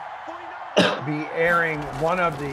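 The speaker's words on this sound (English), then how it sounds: "That was a cough." A single sharp cough cuts in abruptly, and people keep talking right after it.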